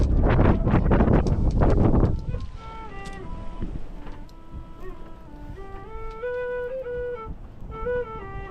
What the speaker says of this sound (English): I'm having to hide from the wind because it's bloody windy.